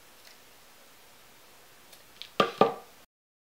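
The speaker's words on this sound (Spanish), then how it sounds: "Y ya podemos cortar el hilo." Scissors cutting crochet yarn for a hair bow: two quick, sharp snips close together near the end, after a stretch of near silence.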